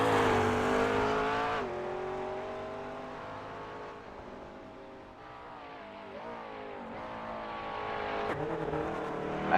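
Race car engine from a GT3 racing video game at Bathurst drones steadily with shifting pitch, easing off mid-clip then building again as it revs up toward the end, continuous and fairly loud with no talk.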